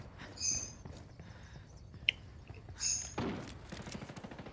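Gunfire in the video game Ghost Recon Wildlands: several bursts and single shots, one sharp crack near the middle, over a steady game background with rattling clicks.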